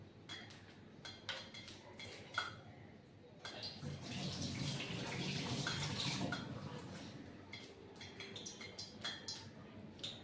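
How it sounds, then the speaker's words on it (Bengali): Two marinated pieces of catla fish go into hot oil for a tomato catla curry. A broadband sizzle swells in the middle and then settles, with clinks of utensils before and after. "আচ্ছা, তার তেলটা আমার গরম হয়ে গেছে। এখানে আমি 2 পিস মাছ ছাড়ব।"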